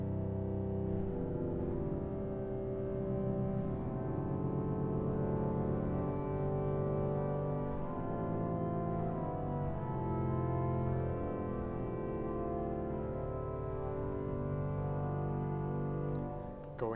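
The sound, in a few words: pipe organ 16-foot viola major string stop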